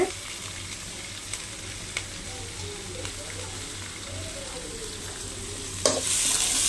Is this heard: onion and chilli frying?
yes